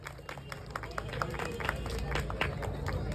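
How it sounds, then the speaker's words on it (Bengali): A crowd claps at a small felicitation event where guests are honoured with gifts. The claps are scattered and steady over about three seconds and sit amid the murmur of the room. "জোরে একটা হাততালি হয়ে যাক।"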